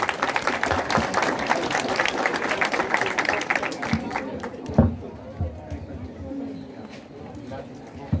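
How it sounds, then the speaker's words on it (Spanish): Loud applause from an audience at a school-year opening ceremony in Chilete welcoming the school director, dense clapping for about four seconds, then fading into crowd murmur and scattered sounds. "Lo recibimos con fuertes aplausos"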